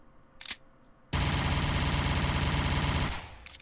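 A semi-automatic pistol from the M9K mod for Garry's Mod, a video game, fires with a short sharp report, then a dense, loud, unbroken burst of gunfire rings out for about two seconds before tapering off.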